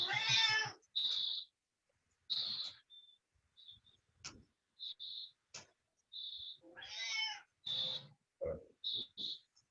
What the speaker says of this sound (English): Sounds like might be a cat.